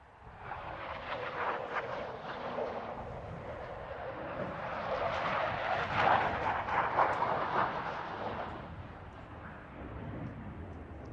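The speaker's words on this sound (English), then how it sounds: "here now the high-speed pass as both aircraft join together" A Canberra jet and a second aircraft join up for a fast high-speed flypast at an RAF Waddington airshow. There is a sustained, loud roaring rush that swells to a peak midway and then holds, with no talk over it.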